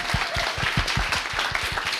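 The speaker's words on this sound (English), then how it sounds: "Let's give these folks a round of applause." A small podcast audience applauds at the close of a live book talk, with distinct individual claps in a brisk, uneven rhythm that carry on steadily through the whole stretch.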